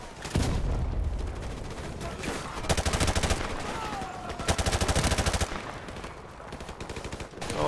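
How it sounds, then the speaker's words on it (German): Barrage gunfire from the side in Call of Duty: Modern Warfare Remastered, with repeated rapid machine-gun bursts and scattered single shots, loud and close, interspersed with dull booms over several seconds. "So, ein bisschen Sperrfeuer von der Seite."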